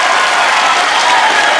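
A studio audience bursts into loud, dense applause as guests Arbaaz Khan and Sohail Khan arrive on a comedy show, a continuous close wall of clapping.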